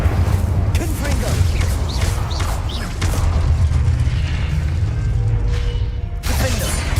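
A Confringo blasting spell from Hogwarts Legacy erupts in booming bursts and crashes, layered over a dense, rumbling game soundscape.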